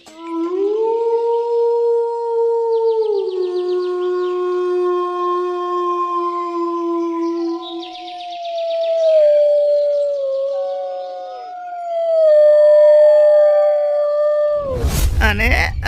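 A parrot in an animated story imitates a fox's howl, a long, sustained, wavering howl that slides in pitch for most of the passage, loud and alone, ending in a sudden noisy burst.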